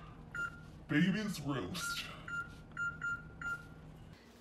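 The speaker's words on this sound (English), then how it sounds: "we are going to set a timer for 15 minutes" Kitchen timer being set for roasting vegetables: a series of short, bright electronic beeps, several in quick succession, some partly under a speaking voice and others alone in a quiet kitchen.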